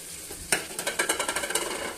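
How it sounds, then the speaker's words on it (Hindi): Tomatoes go into hot, sizzling masala in a pan for matar pulao, starting with a sharp splash and then a steady run of rhythmic stirring scrapes over a constant frying hiss, close and fairly loud with no talking. "और अब हम इसमें डाल देंगे टमाटर।"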